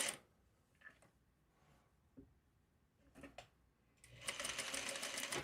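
A sewing machine starts stitching binding onto a quilted piece of fabric, its steady, near whir filling the final second and a half after a few quiet handling clicks.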